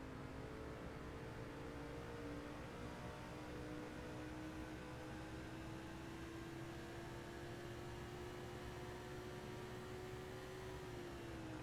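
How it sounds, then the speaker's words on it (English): A race car engine in the NASCAR 06 video game holds a steady high-rev drone down the backstretch, a continuous faint whine that rises slightly in pitch, with no talk. "this thing's running at high revs down the backstretch"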